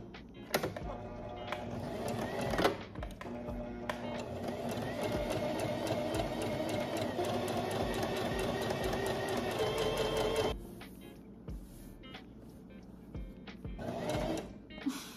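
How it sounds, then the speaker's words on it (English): A sewing machine stitches a pleated mini skirt made from a thrifted bedsheet, its fast, steady mechanical whirr running for about ten seconds before it slows into short, halting bursts of stitching. "I'm finally ready to sew"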